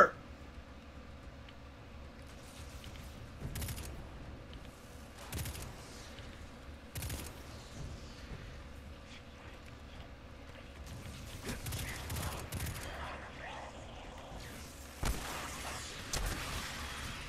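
Scattered bursts of gunfire in the video game Destiny 2, sharp shots and short volleys popping up at intervals over a quiet, low background, fairly faint and spread out rather than continuous.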